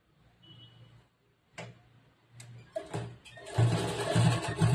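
A sewing machine runs in short bursts while stitching a blouse with a back boat neck design. There are quiet low rattling runs, a pause, then a longer, louder, close stitching burst at the end.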